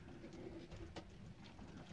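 Pigeons cooing inside a backyard coop holding young birds, including a red-marked squab, with soft low coos repeating steadily over a constant close hum of background noise.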